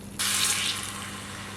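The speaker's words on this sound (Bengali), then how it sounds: "এবার এর মধ্যে দিয়ে দেবো জল।" Water gushes from a tap or jug into a pan of spice masala that has been cooked until the oil separates, for a pepper paneer curry. The pour starts abruptly, close and steady, then eases to a softer continuous flow.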